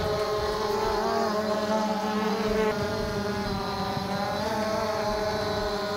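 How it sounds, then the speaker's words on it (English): An Ehang GhostDrone 2.0 VR drone taking off, its propellers producing a loud, steady, high-pitched buzzing whine with layered harmonic tones that holds nearly constant from start to finish, with no voices. "Let's hit takeoff, slide to confirm, and Ghost will take off."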